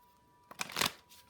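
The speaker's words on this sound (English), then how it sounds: "I've already pre-shuffled, so I'm just going to shuffle a few more times." Tarot cards are shuffled once in a quick, close riffle lasting under a second, with quiet surroundings before and after.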